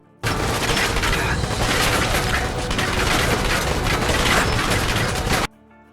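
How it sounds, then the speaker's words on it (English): Rapid gunfire striking the player in Fallout 4: a loud, dense barrage of shots and impacts that starts abruptly, runs continuously for about five seconds, then cuts off into quiet. "I took so many frickin' rounds, which sounded something like this"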